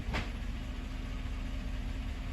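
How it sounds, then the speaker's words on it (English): Engine of a 2014 Chevrolet Silverado running at idle during a transmission fluid exchange, a low steady rumble with a brief higher whine near the start, no talk. "I am running the engine and cycling through the gears just to get things moving in the transmission"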